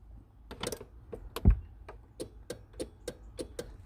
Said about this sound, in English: relays clicking